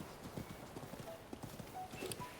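Hooves of a horse clip-clop in a quick, even rhythm on the ground in a video game at night, fairly close and soft, with a few faint tonal blips over the steps.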